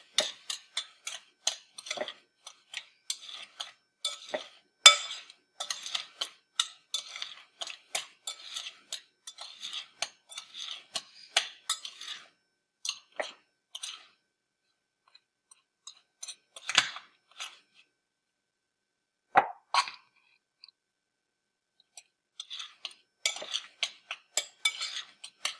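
Kinetic sand mixed with added sand and cornstarch, giving dry crunchy scraping and clicking bursts in irregular clusters with short pauses, close and fairly quiet, no talking.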